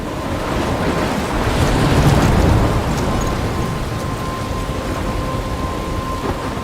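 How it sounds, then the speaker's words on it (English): Thunderstorm in the video game Life is Strange, a steady loud roar of wind and rain with a broad rumbling swell in the middle, no voices. "I'm trapped in a storm?"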